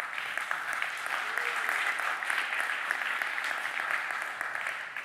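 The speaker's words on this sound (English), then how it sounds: "Thank you for clapping." An audience at a tech talk about network resilience claps, a dense and even burst of many hands that holds steady for several seconds and then starts to thin out.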